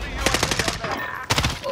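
A quick burst of automatic gunfire from a video game shooter rattles in a fast, even rhythm, pauses briefly, then fires a second short burst, moderately loud against a background hum.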